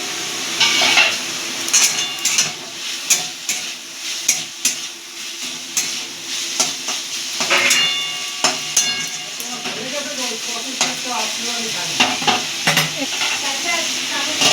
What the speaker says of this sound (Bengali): এটাকে ঢাকনা খুলে একটু নাড়াচাড়া দিয়ে দেবো